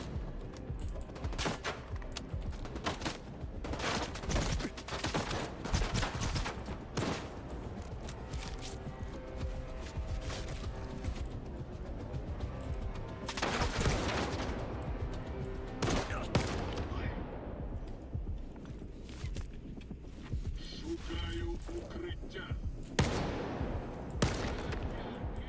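Rapid bursts of gunfire in the video game S.T.A.L.K.E.R. 2: Heart of Chornobyl crackle almost continuously, with sharp repeated shots and occasional louder volleys.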